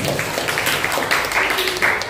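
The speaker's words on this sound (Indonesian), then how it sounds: "Tepuk tangan dulu untuk semuanya." A classroom claps steadily, a dense patter of applause with voices faintly underneath.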